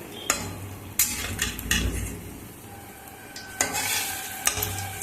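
Whole polta (pointed gourd) leaves, rubbed with salt, fry in oil for pakora, a soft sizzle punctuated by several sharp clinks and scrapes of a utensil against the pan, close up.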